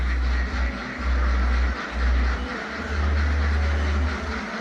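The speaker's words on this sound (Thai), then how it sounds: "เป็ดอยู่นี่" Ducks quack continuously in a noisy, dense chorus with a low rumbling hum underneath.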